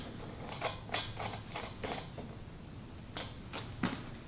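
Faint metallic creaks and ratcheting clicks come in short irregular bursts as an anchor nut is snugged down on a bolt fitted with rubber and fender washers on a hay ring cover.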